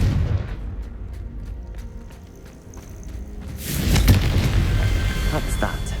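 A Confringo blasting spell erupts in Hogwarts Legacy, a single loud booming explosion that swells into a long rumbling, crackling tail after quieter footsteps and ambience, with a voice speaking nearby.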